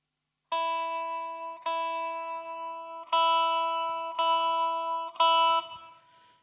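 MXR talk box guitar effect, its sound sent through a tube into an open mouth and bounced back toward a microphone, plays five sustained notes in a row, each steady and clear with a throaty vocal colour, and no talking over it.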